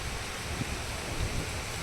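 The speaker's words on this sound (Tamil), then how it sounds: "காற்று வேறு லெவலில் காற்று வீசிக்கிட்டு இருக்கு" Steady roaring wind noise buffets the microphone throughout, a dense continuous rush with low gusty thumps and no voices.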